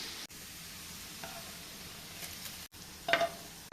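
Sliced onion frying in oil with a little sugar added to caramelize it: a steady, moderate sizzle throughout, with a brief break and a few light clinks of a utensil near the end.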